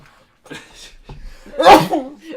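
A single sharp sneeze bursts out after some quiet breathy sounds and a brief voice, loud and close.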